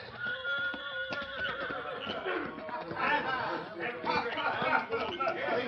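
Horses whinny and neigh in an old western radio drama, fairly near, with clip-clop hooves mixed under ongoing dialogue.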